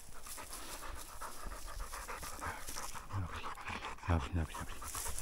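A Hungarian short-haired pointer pants rapidly and steadily while tracking a scent trail nose to the ground, close by, with quick breathy puffs running throughout and a brief spoken word from a person near the end.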